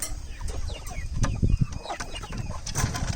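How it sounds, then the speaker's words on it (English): A rooster clucks in short bursts up close, with other fowl chattering and scattered bird calls around it. "He is a rooster that we raised, one of our first natural raised chickens on the farm."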